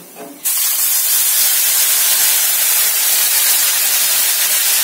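Bengali spice paste dropped into hot oil while cooking katla kalia, a sudden loud burst of bright, hissing sizzle that holds steady and close for several seconds, with no talk over it.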